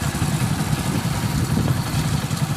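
A motorcycle engine running during a stunt, a steady, loud, low rumbling drone that stays close and even throughout, with no talking.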